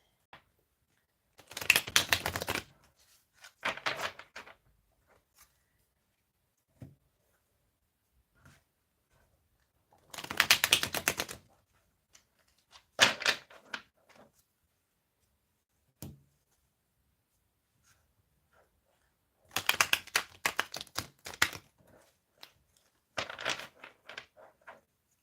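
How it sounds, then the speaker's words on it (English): A deck of tarot cards, slightly swollen from moisture, is shuffled in several short, crisp bursts of riffling and flicking, with quiet pauses between them. "They're absorbing some moisture, so I'm going to give them a really good shuffle"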